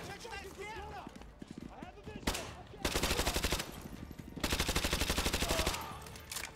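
Rapid automatic gunfire in Call of Duty Modern Warfare 2, two loud sustained bursts of rattling shots with scattered single cracks before them, mixed with game ambience and someone talking.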